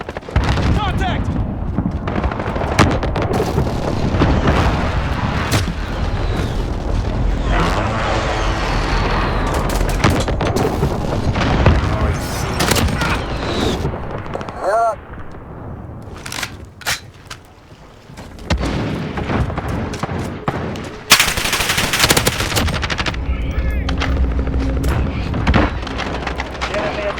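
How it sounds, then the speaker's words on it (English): Precision airstrike explosions and rapid gunfire in Call of Duty erupt in dense, loud bursts, with booming blasts and crackling shots continuing for most of the stretch, a brief lull, then another sharp burst of noise. "Allied precision airstrike incoming."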